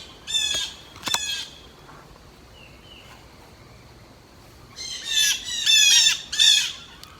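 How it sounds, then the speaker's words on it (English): Crows in a flock give harsh, raspy squawks: two quick calls near the start, a quiet pause, then a denser cluster of overlapping caws toward the end, moderately close and loud. "So many birds. They always flock around me once I stay in a place long enough."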